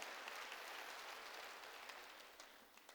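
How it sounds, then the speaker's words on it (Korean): A church congregation claps in a dense, steady wash of applause that tapers off slightly over about three seconds, heard at a fairly low level. "회개는 우리의 몫인 걸 믿으면 박수 쳐라"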